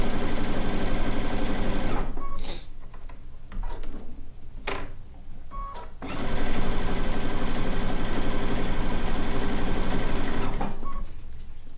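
Sewing machine stitching decorative stitches across rag quilt layers, a close, loud, rapid ticking whir running in bursts with short stops in between.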